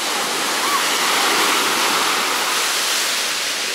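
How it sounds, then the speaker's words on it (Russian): Big sea waves at a pebbly beach near rocks in Alanya, Turkey, a loud continuous roar of surf and churning water filling the whole scene without pause. "Потому как сегодня огромные волны."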